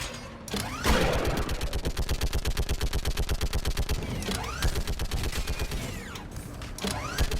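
A mounted gun firing in Mass Effect 3, rapid rhythmic bursts of heavy automatic fire with brief pauses and explosive impacts between them, loud and close.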